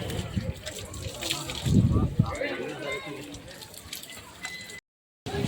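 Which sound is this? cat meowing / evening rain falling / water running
water running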